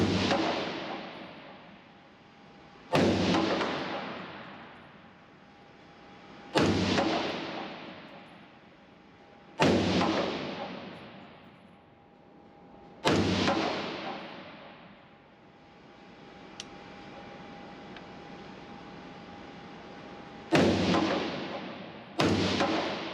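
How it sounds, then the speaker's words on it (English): Six sharp, loud rifle shots from a PWS MK116 Mod 2-M ring out at an outdoor range, spaced a few seconds apart, each followed by a long fading echo. "We're going to do a 5-shot group here."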